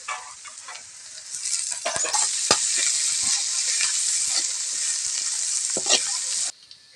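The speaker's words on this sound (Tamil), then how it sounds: "அரிஞ்சு வச்ச வெங்காயத்தை நல்லா கொட்டி சிவக்க வதக்கலாம்." Chopped onions sauté in a pan for a steady, bright sizzle that swells after a couple of seconds, with sharp stirring clacks and scrapes throughout, then cuts off abruptly near the end; no talking.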